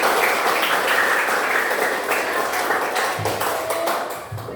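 Junior high classroom students applauding together, a broad steady wash of clapping that stays loud before thinning out toward the end.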